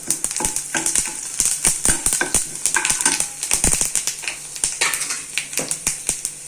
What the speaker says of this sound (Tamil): வடகம் போட்டு தாளிச்சிக்கலாம்